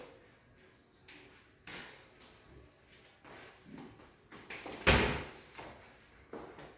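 Drawers of a newly installed master-bedroom wardrobe cabinet slide and bump shut, with soft wooden knocks and one louder thud near the end, close up in a quiet room.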